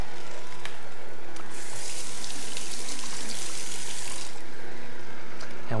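An electric juicer re-juices lemon pulp for a green juice, giving a steady wet gushing whir with a brief surge in the middle, close and fairly loud, with no talk.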